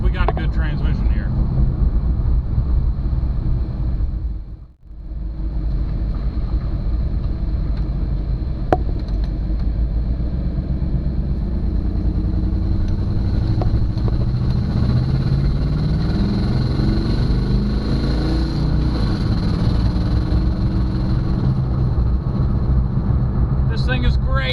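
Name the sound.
LS-swapped 2006 GMC Envoy engine driving through gears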